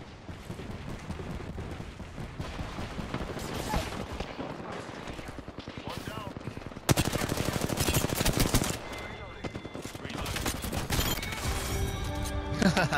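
Fuze's Knuckle Cluster fires in the Apex Legends video game, bursting into rapid, dense crackling explosions layered with gunfire, loud and chaotic, surging sharply midway before settling into a continued barrage.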